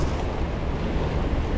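Fast river water swirls into a small eddy beside a current, making a steady, dense rushing and churning wash close by, with no voices.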